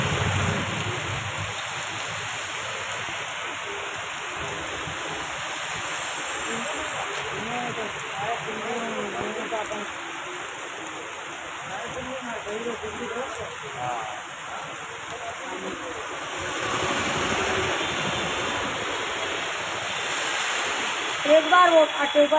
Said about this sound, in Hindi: धीरे धीरे पानी बरस रहा है